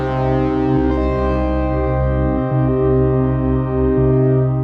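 A sustained synthesizer pad built in Bitwig's Grid drones with a slowly shifting, pulsing tone, full and steady with subtle movement in its texture.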